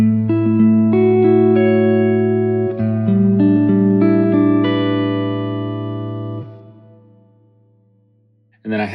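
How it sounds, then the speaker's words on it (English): A thinline hollow body electric guitar with heavy flatwound strings, played through a Gamechanger Audio Bigsby pedal with reverb, rings out in sustained chords and notes that bend slightly and fade into reverb. A short voice cuts in at the end. "So anyway, here's the sound of the guitar."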